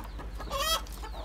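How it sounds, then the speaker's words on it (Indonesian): Elba chickens, a flock of about twenty, give a short burst of clucking with a brief, higher squawk in the middle, fairly close against a low steady hum. "ini ayam-ayam Elba saya"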